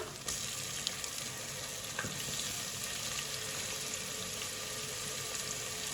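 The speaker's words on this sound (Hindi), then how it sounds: "अदरक और लहसुन को लाजमी थोड़ा सा पका लेना, पकाने से इसका कच्चापन खत्म हो जाता है" Crushed ginger and garlic fry in a pan with chopped onion, hissing in a steady, close sizzle with a faint stirring scrape now and then, and no voices.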